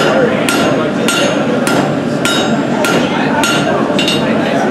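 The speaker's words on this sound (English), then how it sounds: "I hope you can see that metal's actually brightening up a little bit as I hammer it." A hammer strikes metal at a forge in a steady, evenly spaced rhythm, about eight sharp ringing blows, close and loud over a constant background hum.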